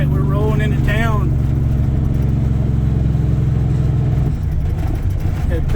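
Truck loaded with corn rolling into town, its engine droning steadily and loudly throughout, with a brief whining tone near the start.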